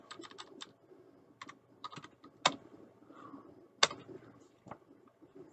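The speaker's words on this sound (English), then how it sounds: "I really can't talk and type." Typing on a computer keyboard, with quick clusters of light key clicks separated by short pauses and two sharper, louder key strikes, close up with no talking.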